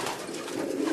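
A pigeon coos close by inside a racing pigeon loft, a low steady murmuring call that fills the whole moment without any talk.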